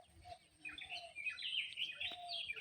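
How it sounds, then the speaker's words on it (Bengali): Birds chirping in a tree in the morning, with several faint, distant high chirps and twitters in quick irregular bursts over a quiet background. "ওই যে ওখানে পাখি কিচিরমিচির করতেছে"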